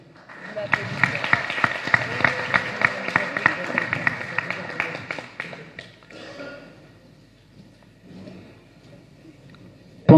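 Audience applause at a startup summit, dense clapping for about five seconds that then thins out and fades toward near quiet.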